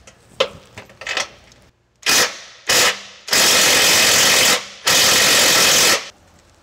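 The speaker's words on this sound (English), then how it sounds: "So let's go ahead and bore that out now." A power drill bores holes in a truck frame for rock slider installation, in short bursts at first and then two longer loud grinding runs, close up.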